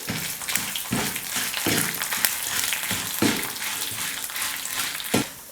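Lentils and four dried red chillies dry-roast in a pan on medium flame, giving a light rustling sizzle broken by several scraping stirs and rattles of a spoon against the metal, close, with no speech.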